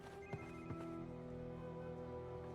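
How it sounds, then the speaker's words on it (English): A Sony Ericsson mobile phone rings in Quantum of Solace, the Xbox 360 Bond game: a steady electronic ringtone runs throughout, moderately loud over a low game background with a couple of brief thuds. "Sony Ericsson phone."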